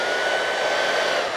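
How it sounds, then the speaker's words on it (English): A cheap small hair dryer running on low speed blows steadily across acrylic pour paint on a canvas, giving a continuous, even, close-up airy whir with no pauses. "What I'm going to do now is use my hair dryer, this little cheap thing, and I use a low speed"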